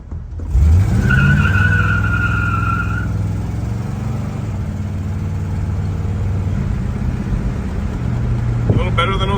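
A 1972 El Camino shop truck on new 5-spoke SS wheels launches hard. The engine roars up, and a sharp tire squeal cries out for a couple of seconds before the engine drones on steadily and loudly.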